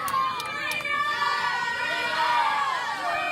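A crowd at a softball championship game cheers and shouts, with high whistles and whoops carrying over the stands.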